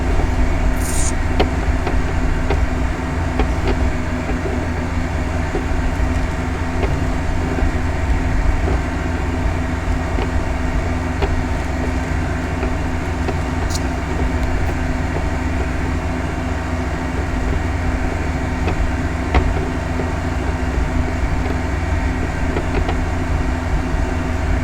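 A big truck's engine drones steadily from inside the cab while driving in a video game log-hauling run, a loud, constant rumble with faint rattles and no talk.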